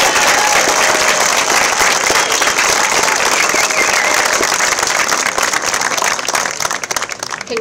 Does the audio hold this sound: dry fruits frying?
no